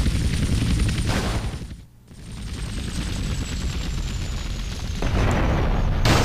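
Rocket launcher explosion in Grand Theft Auto Vice City Stories: a sustained roaring blast that dips briefly and then continues rumbling loudly, with a surge near the end.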